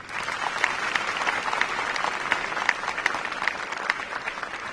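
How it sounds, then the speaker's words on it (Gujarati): Audience applause at a government scheme launch event in Ahmedabad, a steady, dense clapping from a seated crowd sustained throughout, moderately loud with no speech over it. "તાળીઓ."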